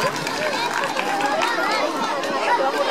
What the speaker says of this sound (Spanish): Ajá, muy bien, un aplauso.